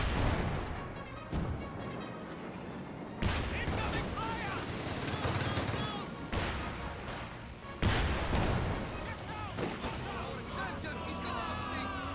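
Bofors anti-aircraft gun in Company of Heroes 2 firing bursts of rapid shots amid ongoing battle noise, with thumps and impacts mixed in and a commentator talking over the action throughout.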